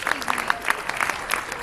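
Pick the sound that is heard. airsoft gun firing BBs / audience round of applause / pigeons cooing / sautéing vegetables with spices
audience round of applause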